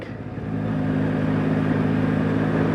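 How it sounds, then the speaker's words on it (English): A 2024 Yamaha MT-09 motorcycle engine hums steadily while riding at about 30 mph in third gear, a smooth, even drone with a slight swell at the start, with no talking. "30 miles an hour, 3rd gear, engine still purring along"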